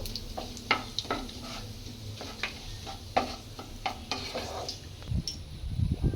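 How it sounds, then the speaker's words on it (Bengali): Dry red chili, bay leaf and cumin tempering in hot oil for a pangas fish curry, a light crackle under repeated clinks and scrapes of a spoon on the pan, with a louder clatter toward the end. "ফোড়নটাকে ভালো করে লাল লাল করে ভেজে নেব"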